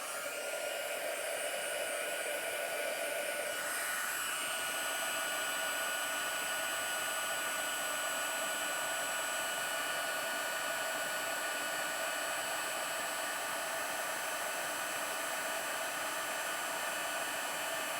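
Heat embossing tool blowing hot air onto a card, a constant close whirring hiss of fan and heater running without a break for the whole stretch, nobody speaking.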